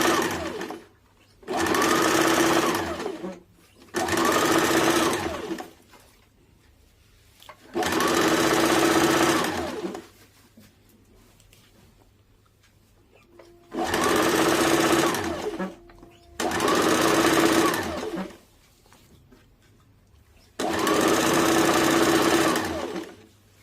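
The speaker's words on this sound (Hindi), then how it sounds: "अब नीचे वाले हिस्से को भी इस प्रकार से मोड़ के इसको भी सिलाई कर लेंगे।" Sewing machine running in steady bursts of several seconds each while stitching the folded lower hem of a plain blouse, a loud close whirring chatter broken by short pauses, with quiet room sound between runs.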